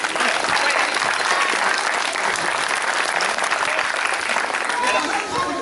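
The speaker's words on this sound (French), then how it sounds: "Et vous pouvez l'accueillir avec un tonnerre d'applaudissements." Dense, steady applause from an audience at an outdoor juggling and acrobatics show, a loud unbroken wash of many hands clapping for the whole stretch.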